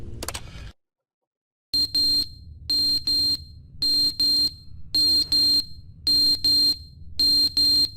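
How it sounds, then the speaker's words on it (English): Fire alarm ringing in The Stanley Parable, a loud electronic alarm sounding in repeated pairs of short blasts about once per second, following a brief burst of other noise and a moment of silence. "A fire alarm."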